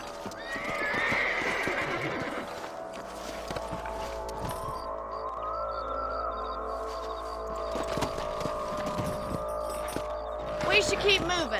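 Horses ridden in the video game Red Dead Redemption, with steady hoof clip-clops and a neigh near the start, close and clear, while game dialogue talks over much of it.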